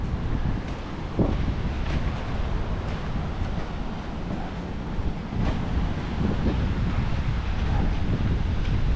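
Steady wind roars across the microphone over rolling surf at Kamala Beach in Phuket, a continuous broadband rush with occasional louder gusts and no clear voices.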